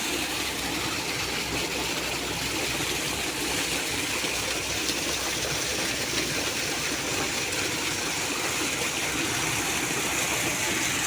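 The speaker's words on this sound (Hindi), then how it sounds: "यहाँ ट्यूबवेल चल रहा है" A tubewell pump runs beside a rice field in a Punjab village, giving a steady, loud engine drone mixed with gushing, rushing water that continues unbroken throughout, with no voices.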